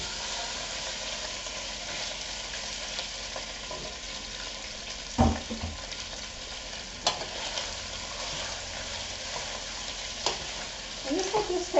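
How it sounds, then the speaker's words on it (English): Sausage browning in a pan over medium heat on a stovetop, a soft continuous sizzle broken by a few scraping stirs of a utensil, with louder clatters near the end. "I'm just going to add my sausage and saute it till it's browned"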